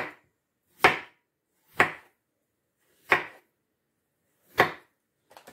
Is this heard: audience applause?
no